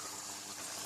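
Steady close wash of water circulated by a small 250 litre per hour pump in a perspex-lined water dragon vivarium with gravel and fish, a continuous even gush with no pauses.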